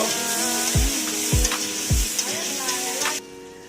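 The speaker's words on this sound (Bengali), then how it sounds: "এবারে আমি কাঁচকলা ভাজছি" Raw green banana slices frying lightly in a pan, a continuous close sizzle with several sharp knocks of a utensil against the pan, ending abruptly.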